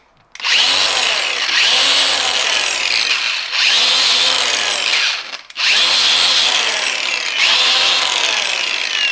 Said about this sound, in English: I bought this interesting disc that's for polishing aluminum or working on aluminum, so throw this on here real quick